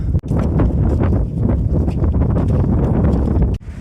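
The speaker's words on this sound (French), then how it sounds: "je vais parler assez fort parce qu'il y a beaucoup de vent" Strong wind on a beach buffets the microphone, a loud, continuous rumbling roar with gusty surges and a couple of brief dips.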